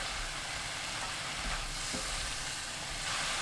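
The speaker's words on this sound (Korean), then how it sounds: "지글지글 소리 나기 시작하면 그때부터 2분 30초 볶아주세요" Radish sizzles steadily while being stir-fried in a hot pan, a dense, continuous crackling hiss with a low rumble beneath, close and even throughout, with no talking.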